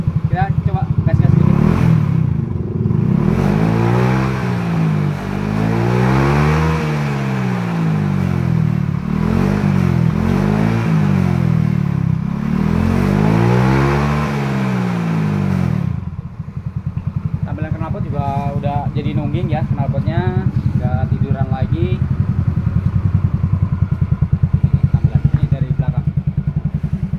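A Yamaha Xeon GT 125 with its stock exhaust revs repeatedly in rising and falling surges, loud and close, then settles into a rough idle with someone talking over it.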